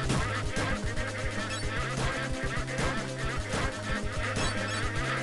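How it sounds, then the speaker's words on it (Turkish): Video game ducks honk and quack repeatedly in a busy, crashing scene, with rhythmic bursts of squawks over clattering game effects, loud and close. "Her yer ördek."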